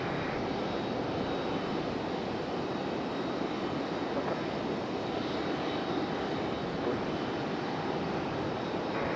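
Planes taxi in a line toward the end of the runway at Raleigh Durham airport, a loud, continuous engine roar and whine that holds steady without pause.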